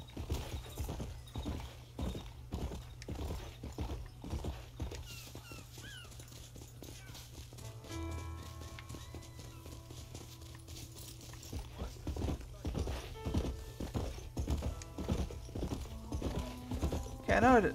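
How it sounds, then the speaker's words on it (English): Horse hooves clip-clop steadily in the video game Red Dead Redemption, a rhythmic run of hoofbeats over a low rumbling game background with brief whistling tones and occasional talk. "There's my horsey!"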